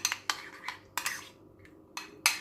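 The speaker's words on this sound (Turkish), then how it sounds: "Şimdi bunu da karıştıracağım." A teaspoon clinks against a cup as a cinnamon, ginger and turmeric drink is stirred, giving about six light, sharp taps in an irregular rhythm, close and fairly quiet.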